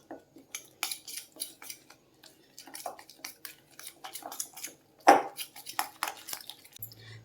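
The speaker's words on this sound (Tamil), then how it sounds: "இப்போ எல்லாமே ஒன்றா சேர்த்து கலக்கி விட்டுருவோம்." A spoon clinks and scrapes against a bowl while stirring a thick yogurt, ginger-garlic paste and spice marinade for paneer tikka, a run of small irregular taps and scrapes with one louder knock near the end.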